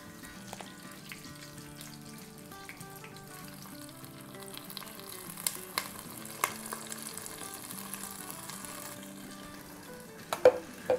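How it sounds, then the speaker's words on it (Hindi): Yogurt and gram flour batter sizzles and fries steadily in a hot pan with a few sharp clinks, while soft music plays in the background. "इसमें डाल देंगे ये हमारा दही और बेसन का लिक्विड।"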